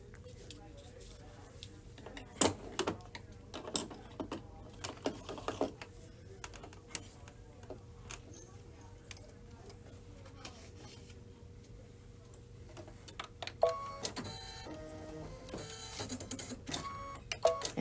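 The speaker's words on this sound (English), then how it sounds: "stitch the quilting design and the flower fill" A computerized embroidery machine stitches a quilting design in tan thread on a belt bag project, a soft steady mechanical chatter with occasional sharper clicks and clunks, fairly quiet, with faint talk at times.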